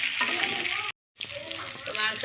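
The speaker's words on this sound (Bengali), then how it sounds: "তো মাছের সাথে আলুগুলো দিয়ে দিলাম ভাজার জন্য," Potatoes frying with meat in a pot for chicken biryani, a soft sizzling hiss with some stirring and a brief silent break in the middle, faint talk underneath.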